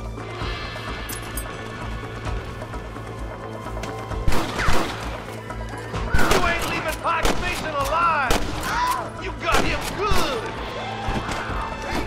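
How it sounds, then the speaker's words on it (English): Gunfire rings out in a Red Dead Redemption shootout, a run of sharp, loud shots in uneven bursts over a steady background of music and ambience, with a voice briefly heard amid the firing. "Fine shooting, boys."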